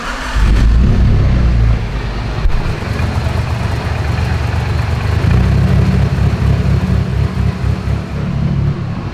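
A straight-piped 700 WHP Mitsubishi Evo engine running loud and close, a deep rumbling idle with rough, throbbing low-end pulses and occasional surges, continuous throughout with no talking.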